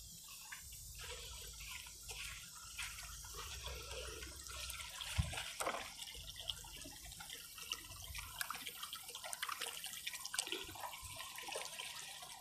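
Continuous trickling and splashing as pond water from a backyard kiddie-pool pond pours steadily into a cup, with a few louder gurgles and drips mixed in throughout.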